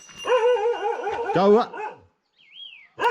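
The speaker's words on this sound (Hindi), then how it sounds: "आज भी भौंकने लग गया है।" A dog barks close by in a rural hill home, giving a burst of several loud barks and yips that end in a whimper, followed by a short whistle-like sound. A person briefly asks a question.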